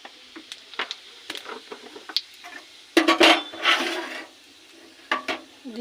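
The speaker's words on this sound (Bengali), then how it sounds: "এবার এই তেলে ফোড়ন দেবো গোটা গরম মশলা, দেবো জিরে ফোড়ন" Whole garam masala and cumin seeds hit hot oil in a pan, giving bursts of crackling spatter and a few utensil clinks, close and fairly quiet, the loudest crackle coming midway.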